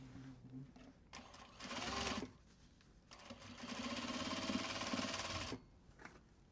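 A sewing machine stitches a fabric box bag in two short, fast bursts of whirring, with quiet handling noise and a faint voice between them.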